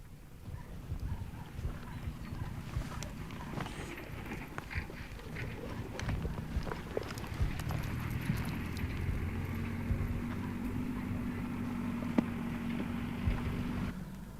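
A stunt horse's hooves clop irregularly on the ground throughout, mixed with rustling and low background noise, at a moderate distance.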